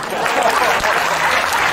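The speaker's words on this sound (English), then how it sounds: "Good, give me some applause." Audience applause for a mentalist on stage, a dense steady patter of many hands clapping at close range that holds level through the whole short burst.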